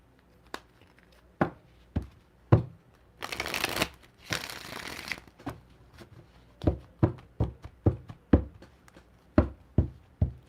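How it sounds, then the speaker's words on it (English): A deck of playing cards being shuffled: a series of crisp taps and knocks on a table, two longer riffling bursts near the start, then steady single taps continuing alone. "I'm going to give these cards a shuffle."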